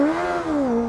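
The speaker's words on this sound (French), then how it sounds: "quand tu démarres ta moto" A motorcycle engine revs briefly with a steady mid-pitched drone that dips slightly in pitch, loud and close, no voices.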